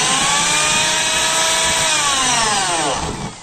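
Power drill boring a pilot hole with a 1/8 inch bit during work on a Chevrolet Cruze 1.8, a loud, steady high whine close by that slowly drops in pitch as the motor loads, then fades.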